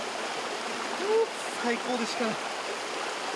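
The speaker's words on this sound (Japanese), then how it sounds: "足柄の山から流れる夏でもひんやり冷たい川の天然の水風呂です" A cold mountain river flows past an outdoor tent sauna in Ashigara, a steady broadband rush of water throughout, with a person speaking briefly over it.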